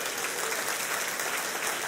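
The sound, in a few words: congregation applause in church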